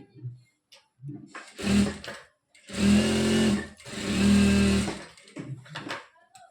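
A sewing machine stitches churidar pants in three close, loud bursts, two of them long and steady runs, with short starts and stops between them in a quiet room.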